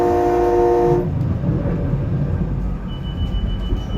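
A SEPTA Silverliner V regional rail train running through snow on the route to Doylestown, loud and close: a horn-like tone cuts off after a second, leaving steady rumbling wheel and track noise, with a faint high whine near the end.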